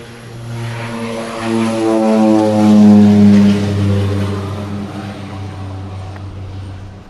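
A propeller airplane takes off from Princess Juliana Airport on Sint Maarten bound for St. Barts, its loud droning engine hum swelling as it passes close and then easing off.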